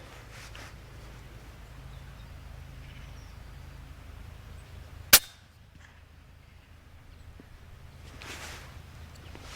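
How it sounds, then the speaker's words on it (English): A single sharp crack from an FX Impact MKII air rifle firing a slug through a chronograph, heard once midway against quiet background ambience. "I'm just going to put the 6th shot now through the chrono."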